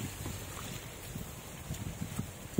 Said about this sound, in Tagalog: Lumakas naman ang hangin guys.